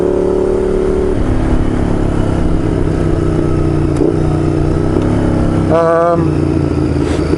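A Honda CBR 250 inline four-cylinder motorcycle engine runs loud and near with a steady high-pitched drone, then a brief sharp rising rev near the end.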